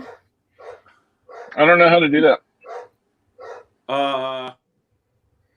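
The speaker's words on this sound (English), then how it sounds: "Sorry, my dog." A dog barks indoors during a casual livestream: two loud, drawn-out bark-howls stand out between short bursts of a person talking nearby.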